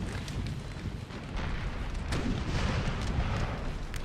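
Napoleonic-era artillery fire in Napoleonic Total War 3 during a 4v4 battle, repeated distant booms rumbling over a dense, noisy battlefield backdrop, with no clear single close blast.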